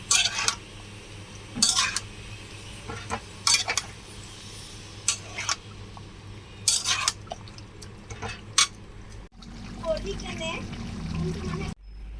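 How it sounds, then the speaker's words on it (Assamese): A spoon scrapes and clinks in a pan while chicken is stirred with ground spice paste of salt and turmeric. The metallic knocks come in a loose rhythm, several sharp ones close up, followed by a softer sizzling stretch. "এনেদৰে সকলো বস্তুখিনি মিহলাই আছোঁ"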